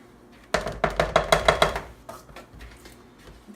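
Flour being mixed into a buttermilk and cheese batter for flatbread: a quick run of about eight close, sharp taps of a utensil against the bowl, then softer, irregular stirring knocks, with no voices.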